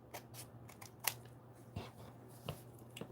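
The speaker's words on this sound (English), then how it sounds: "I'm gonna have to cut this part off a little bit" Small snips of scissors trimming a rubber stamp, a few light crisp cuts spaced irregularly, close by and quiet, with no talking.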